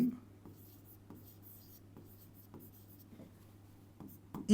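A pen writes out a sentence in soft, faint scratches and light taps, spaced irregularly over a steady low background hum.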